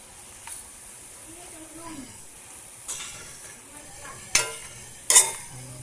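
Bean sprouts stir-fried in a pan as ginisang togue, with a steady sizzle, scraping stirs and a few sharp utensil clanks against the pan growing louder toward the end; a faint voice is briefly present.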